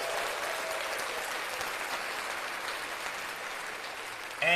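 Crowd applause played on a sports podcast: a steady, even roar of many hands clapping at moderate level, sustained throughout with no speech over it.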